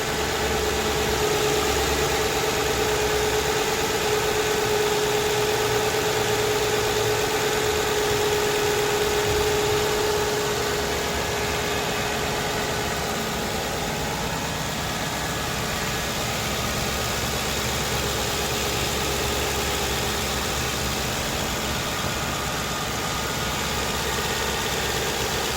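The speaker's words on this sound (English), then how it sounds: "so that you can actually hear the actual engine idle." A 2010 Ford Crown Victoria Police Interceptor engine idles steadily and close by for a long stretch, a low continuous rumble with a faint rhythmic knock and vibration, no talking.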